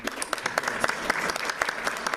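An audience claps to welcome a speaker at a university lecture, dense steady applause from many hands, close and full throughout.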